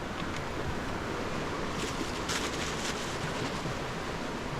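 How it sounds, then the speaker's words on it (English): A creek swollen by floodwater after rain rushes in a steady, loud, unbroken roar that fills the whole stretch with no one speaking. "See how wide that creek is."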